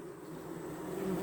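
A steady, dense buzz of honeybees at a hive, many humming together close by, continuous and slightly rising toward the end.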